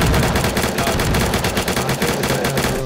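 Rapid, sustained video-game gunfire on the Peak.53 Salt Mine map fills the clip, loud and close, with dense overlapping shots rattling continuously and no pauses.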